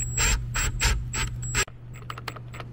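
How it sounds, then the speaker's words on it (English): A hand ratchet driving a screw while fitting a DV8 accessory to a Ford Bronco, with rapid loud clicking strokes in a regular rhythm that stop abruptly, followed by a few faint scattered ticks and taps. "we're gonna screw this in and show you the after product"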